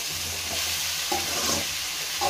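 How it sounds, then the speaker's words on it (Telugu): Bottle gourd curry fries over a medium flame with turmeric powder, giving a steady close sizzle and a few soft scrapes of stirring against the pan, with no one speaking. "మీడియం ఫ్లేమ్లోనే పెట్టుకొని వేయించుకోవాలి"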